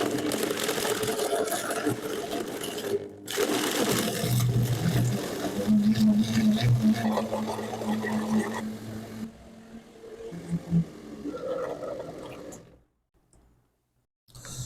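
Kitchen blender grinding a mint margarita of mint and 7 Up with ice, a loud whirring, churning drone running in bursts with short cut-offs, then fading out near the end.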